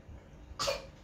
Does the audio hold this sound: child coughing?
yes